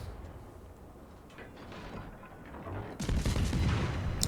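Naval guns fire in World of Warships aboard the Soviet destroyer Gremyashchy: low, rumbling battle ambience swells into a sudden loud salvo boom, with a sharp crack trailing after it.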